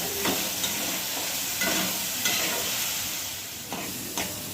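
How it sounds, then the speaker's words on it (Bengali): Spice masala mixed with spoonfuls of sour yogurt frying in a pan for a paneer dish, a steady close sizzle broken by several scraping stirs of a spoon. "মশলাটাকে আমি কষাবো।"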